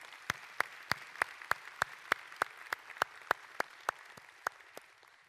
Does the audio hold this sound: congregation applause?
yes